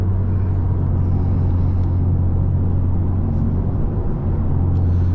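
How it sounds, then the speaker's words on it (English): A Lexus IS350's deep, loud exhaust rumble through a muffler delete holds steady at idle, a low droning growl with no talking. "the muffler delete in this car sounds really good"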